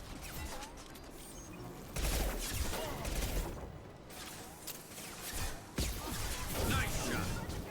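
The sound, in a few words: sniper rifle gunfire in the video game Mass Effect 2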